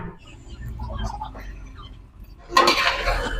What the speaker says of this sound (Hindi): अब डालते हैं चिकन